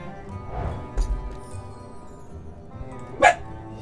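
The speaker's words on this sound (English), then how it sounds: "Excuse the dog." A dog barks a couple of times in a room, short and fairly distant behind a quiet background hum.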